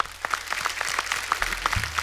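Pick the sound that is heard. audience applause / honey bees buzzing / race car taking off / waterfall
audience applause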